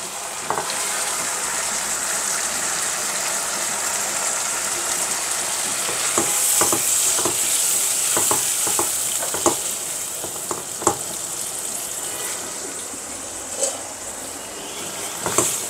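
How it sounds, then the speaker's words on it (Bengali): Chicken hits a pan already seasoned with salt and soy sauce for a yogurt chicken dish, setting off a steady, loud sizzle with scattered scrapes and clinks of stirring and no talk. "আমি চিকেনটা দিয়ে দিচ্ছি।"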